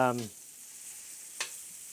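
Butter sizzles on a hot grill plate, a soft steady frying hiss heard up close, with a brief voice at the start and a small scrape partway through.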